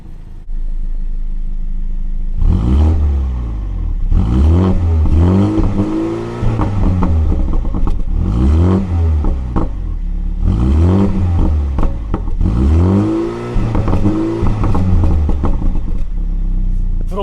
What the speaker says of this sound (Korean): 이 차량의 M235i 왜 고성능인지 배기음과 엔진 소리 한번 들어보고